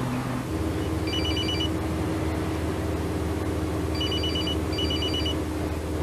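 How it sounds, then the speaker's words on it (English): A mobile phone rings on a bus in a 1999 reconstruction: two short bursts of electronic trilling, clearly audible above a constant low engine drone, with no talking. "Was anybody annoyed by the phone ringing and someone suddenly start talking on the bus?"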